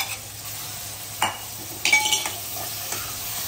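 Prawns fry in a pan, a steady close sizzle with a few sharp utensil scrapes and clinks as they are stirred, and no talking.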